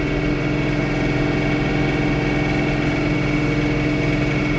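The engine of a John Deere 3 Series tractor with a snowblower runs steadily close by, a constant droning rumble with no breaks.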